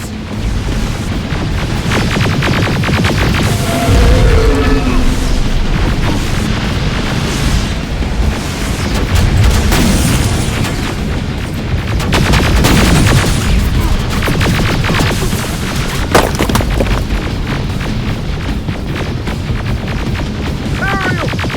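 Loud, dense gunfire and booming explosions from combat in the Terminator Resistance video game roll on without pause, heavy blasts layered over rapid shots throughout.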